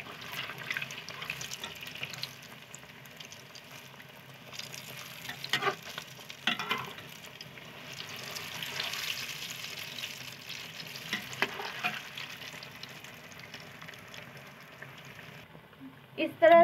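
Pakoras frying in oil heated fully and then turned down to a medium flame, a steady soft sizzle with occasional stirring clatter, fairly quiet and close, with no talking.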